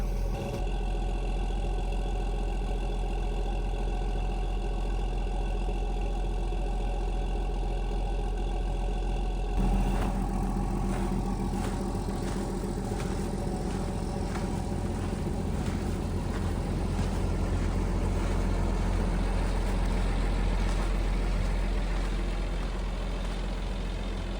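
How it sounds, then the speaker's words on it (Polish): A snowcat piste groomer idles at a mountain hut in winter, its engine a steady low rumbling drone that runs unbroken and close for the whole stretch, with no talking. "chwila ciszy dla e, ratraka, jak sobie e, ta bestia mruczy fajnie"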